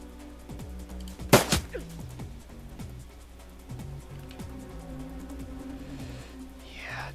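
A single sharp pistol shot cracks out loud in a Shadowrun Returns turn-based fight, followed by a brief echoing tail, then a low steady game soundtrack hums on.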